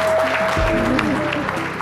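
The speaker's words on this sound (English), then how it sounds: "Let's give him a round of applause." A brief burst of clapping from a small crowd at a ceremony honoring a veteran, steady and continuous for a couple of seconds.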